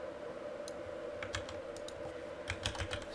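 Clicky keystrokes on a computer keyboard as terminal commands are entered, quick irregular bursts of taps that cluster into short runs with brief gaps, close and fairly quiet over a steady low hum.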